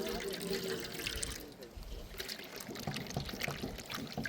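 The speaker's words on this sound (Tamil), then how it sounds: "தண்ணி சேர்த்துக்க போகிறோம்" Water poured steadily into a bowl for maida flour dough, a continuous splashing trickle heard close up with faint voices in the background.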